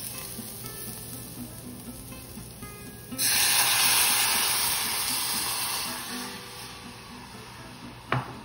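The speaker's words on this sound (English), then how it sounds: "So to that, we're gonna add a cup of orange juice." Orange juice, one cup, poured into a sauce for crispy orange sesame chicken, a steady splashing hiss that starts suddenly, holds for a few seconds, then fades, with a light clink near the end.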